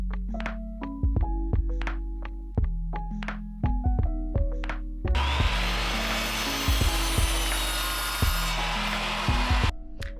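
A power planer shaves wooden siding trim, with one long, loud, harsh cutting pass in the middle. Before and after it, short sharp knocks and clunks of handling the wood sit over a steady low hum.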